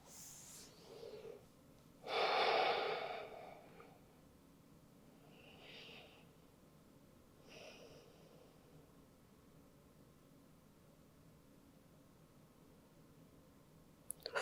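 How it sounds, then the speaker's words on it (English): Slow, deep belly breaths taken in a wide-legged child's pose during a yoga and Pilates session: one loud, close breath, then a few softer exhales spaced apart over quiet room hiss. "Five deep belly breaths here."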